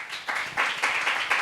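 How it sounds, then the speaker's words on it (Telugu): Congregation clapping during a church sermon, bursts of applause in several swells with a brief lull between them, moderately loud and without speech. "మీకు సంతోషం అంటే చప్పట్లు కొట్టండి."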